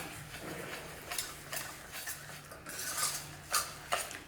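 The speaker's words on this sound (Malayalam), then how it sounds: "ഇനി തൈരും റവയും കൂടി നമുക്ക് ഇതുപോലെ നന്നായിട്ടൊന്ന് മിക്സ് ചെയ്തെടുക്കാം." A spoon mixing semolina and curd in a bowl for rava vada, with soft repeated scrapes and light clinks against the bowl at an uneven rhythm, close by and fairly quiet.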